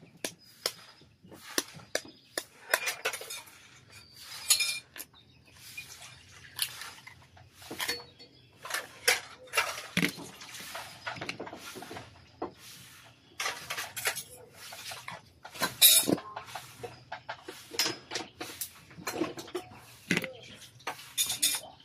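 Eggs and corned beef are cooked together in a pan for breakfast, with irregular metallic clinks and scrapes of a utensil against the pan, near and intermittent, while people talk throughout.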